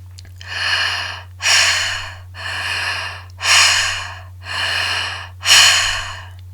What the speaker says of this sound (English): So this would be an exhale where I'm forcing it.